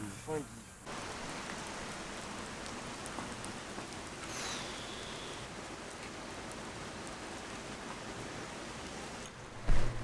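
Steady rain pours down around the listener in Barcelona, a constant dense hiss with a brief distant rumble and a louder knock near the end.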